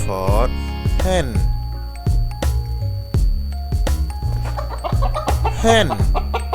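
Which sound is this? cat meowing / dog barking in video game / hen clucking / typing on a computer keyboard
hen clucking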